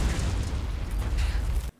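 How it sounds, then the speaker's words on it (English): A car explodes in a TV drama scene, a loud sustained roaring blast with rumbling debris that cuts off abruptly near the end. "Why would you blow up her car?"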